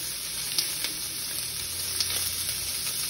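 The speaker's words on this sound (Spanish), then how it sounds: "Aquí está el aceite en el sartén. ¿Se alcanzan a mirar? Y vamos a aventar la cebolla adentro." Chopped onion sizzling and frying in hot oil in a pan on a home stove, a steady close crackling hiss with small pops throughout and no talking.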